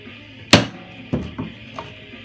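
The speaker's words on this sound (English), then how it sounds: "Rubber hammer." A rubber hammer taps a bushing into a GM Chevelle door hinge: four dull, close knocks, the first strongest, then three lighter taps spaced about half a second apart.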